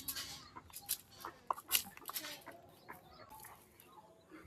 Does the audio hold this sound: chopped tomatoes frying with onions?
no